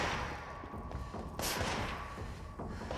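Gunfire in the video game Control, a dense run of dull thumping shots and bursts with one sharper crack midway, fairly loud against a busy game background.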